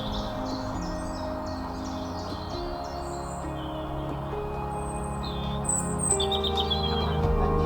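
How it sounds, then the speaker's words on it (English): Wild birds sing in a wood set up with feeders, several overlapping chirps and short whistled phrases over a steady outdoor hum, growing slightly louder toward the end. "great variety of birds up here as well."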